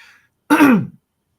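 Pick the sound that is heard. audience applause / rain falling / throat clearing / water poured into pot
throat clearing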